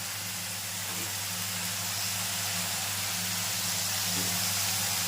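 Onions frying in a pan with salt and turmeric for a village-style Assamese tura fish curry give a steady, even hiss and sizzle throughout, fairly quiet, with a low hum underneath and no talking.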